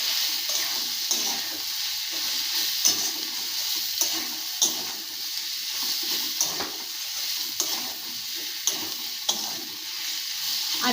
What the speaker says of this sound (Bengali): হলুদ, দিয়ে এটাকে নাড়াচাড়া করব।